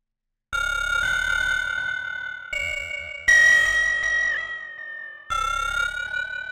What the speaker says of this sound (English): this is another good trick, is putting the vibrato after the echo